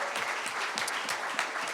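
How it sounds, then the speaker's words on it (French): A live crowd at a Christmas special applauds the cast in a brief, lively burst of close, crisp clapping lasting under two seconds. "Est-ce qu'on peut applaudir les acteurs qui ont fait partie ce soir?"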